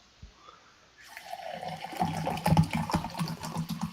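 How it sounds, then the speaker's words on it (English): Water is poured into a vessel indoors, a gurgling, bubbling stream that starts after a second of near quiet and builds into a steady, moderately loud burble with irregular glugs, heard on its own without talk. "Every time you start pouring water, I keep hearing like you're smoking a bong"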